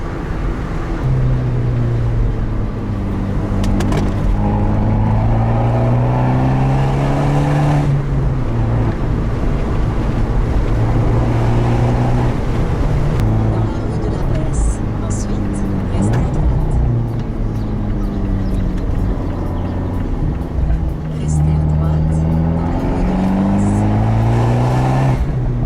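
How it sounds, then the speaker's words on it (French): Abarth 124 Spider turbocharged roadster driven on a road trip through Alsace, its exhaust droning loud and close with rising and falling engine notes through repeated gear changes, plus brief turbo whooshes and hisses, continuous throughout. "Expressif cet échappement. Et quand le turbo est en pleine pression, tu le sens, tu l'entends."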